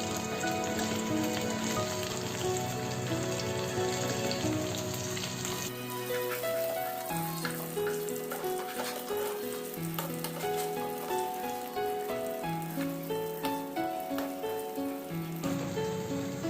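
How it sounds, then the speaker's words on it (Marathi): Fish frying in oil in a pan over a medium gas flame, a steady close sizzle with crackle running throughout, no voices. "मीडियम गॅस फ्लेमवर आपल्याला मासे छान फ्राय करून घ्यायचे आहेत।"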